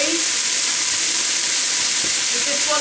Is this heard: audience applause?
no